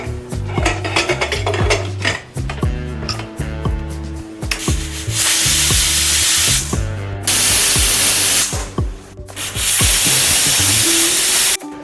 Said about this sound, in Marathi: 5-6 शिट्ट्या घ्यायच्या आहेत आपल्याला